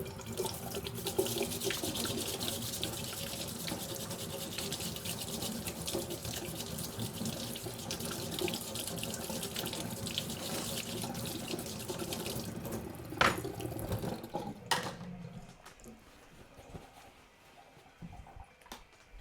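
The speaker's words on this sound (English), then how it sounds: "So I'm gonna have to rinse the fork first." Water runs steadily from a kitchen tap into a sink while a fork is rinsed, a close, even splashing stream. It breaks up near the end and then stops, leaving quiet room noise.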